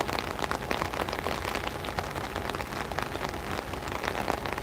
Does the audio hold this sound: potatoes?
no